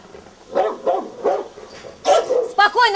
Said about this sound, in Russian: он всегда лает, когда к воротам кто-то подъезжает